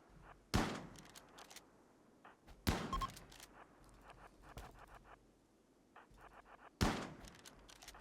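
Gunfire in RimWorld during a small tribal raid on a dwarf mountain colony: three sharp, widely spaced shots ring out close and crisp, with scattered quieter clicks and pops between them.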